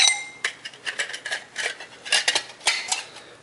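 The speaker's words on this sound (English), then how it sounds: "throw your tuna in" Drained canned tuna is tipped into a metal pot, with a series of quick, bright metallic clinks and scrapes of utensil against can and pot in an irregular rhythm, close and fairly loud, with no talking.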